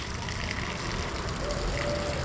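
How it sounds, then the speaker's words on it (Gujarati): Water gushing from a pipe onto brinjal plants in a garden: a steady, continuous rushing splash held close and even throughout, with no voices. "આ પાઇપની મદદથી રવૈયાના છોડને હું પાણી પીવડાવું છું।"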